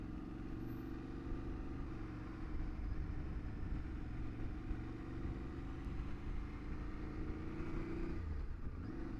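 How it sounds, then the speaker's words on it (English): Big buses rumble along narrow French country roads, a steady low engine drone that holds throughout and dips briefly near the end. "Big old buses coming through very little roads right now."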